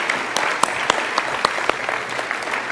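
An audience applauds nominees at the 2024 South Australia Australian of the Year Awards, a steady patter of clapping from many hands with a few sharper nearby claps standing out.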